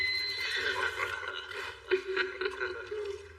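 A horse whinnies loudly and close in an action film, followed by a clip-clop of hooves and further snorts. A faint voice sits under it.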